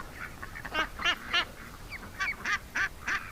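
An injured duck with a badly wounded chest gives a run of hoarse, rasping quacks in irregular bursts, close by and moderately loud over a low background hum.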